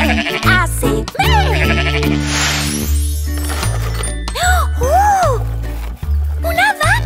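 A sheep bleats several times in a children's song with music playing, and the wavering bleats may be a singer imitating the animal between sung lines.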